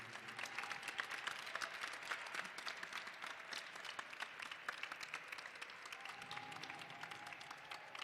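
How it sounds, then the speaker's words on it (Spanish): An audience applauds two people who have been working with the group: dense, steady clapping from many hands throughout, heard faint and somewhat distant. "Un aplauso, por favor."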